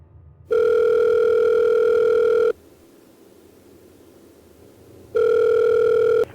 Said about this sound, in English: In this recorded phone call, the officer on duty is Officer Pete Welsh